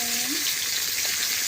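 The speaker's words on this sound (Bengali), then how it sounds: "ভালো করে আলুগুলো আমি লাল লাল করে ভেজে নেব।" Potato pieces frying in hot oil with turmeric and salt, a steady bright sizzle that stays loud throughout, with a short whistling tone near the start and no speech.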